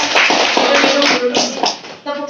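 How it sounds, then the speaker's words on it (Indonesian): Group of teachers at a training session claps their hands, a burst of quick irregular claps with several small waves before the clapping fades and briefly resumes. "Luar biasa tepuk tangan dulu."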